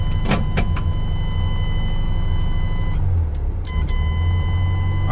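A steady electronic seatbelt warning tone sounds from inside a VW Beetle that had sat unused for six years. It runs almost continuously over a low cabin rumble, with a brief break partway through.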